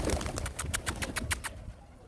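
Pigeons flying outdoors produce a quick series of about eight rhythmic wingbeat claps, fairly faint against low background noise.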